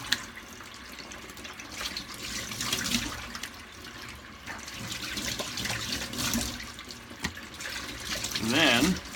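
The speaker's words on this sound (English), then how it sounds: "I rinse off with hot water because I feel it gets the soap off my face better than cold water" Hot water runs from a bathroom tap as someone rinses soap off their face, a steady hissing splash with small bursts of splashing, and a voice speaking briefly over it.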